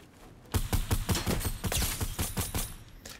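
Rapid bursts of video game gunfire crack out in a dense, loud volley with repeated sharp shots over about two and a half seconds, following a brief quiet start.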